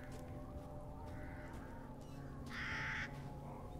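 A crow caws in the video game Resident Evil Village, a loud harsh call near the end over a steady low ambient game drone, with no talking.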